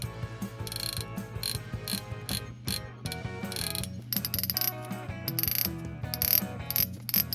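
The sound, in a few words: fishing reel drag clicking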